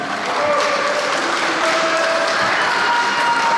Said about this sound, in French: Nous nous associons bien sûr à ces applaudissements enthousiastes.